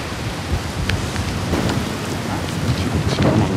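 A thunderstorm with rain pours steadily outdoors, a dense, loud hiss of falling drops with low rumbling throughout, and no voices over it.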